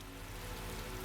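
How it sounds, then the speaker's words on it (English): Steady, soft rain falls in a neon cyberpunk video game scene, a continuous even patter with no voices. "It's raining."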